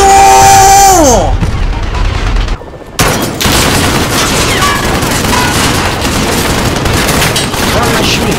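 Call of Duty Modern Warfare gunfire, loud rapid shots and booms after a falling tonal sweep and a short near-silent gap, continuing densely to the end.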